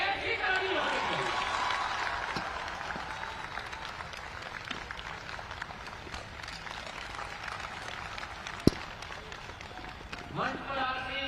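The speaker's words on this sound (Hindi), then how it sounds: "यशस्वी मुख्यमंत्री शिवराज सिंह जी का हम तालियों की गड़गड़ाहट से हम लोग स्वागत करते हैं।" A crowd applauds at the opening ceremony of the Gwalior fair as the chief minister is welcomed. The clapping is a steady, fairly distant wash that fades slightly, with a sharp knock near the end.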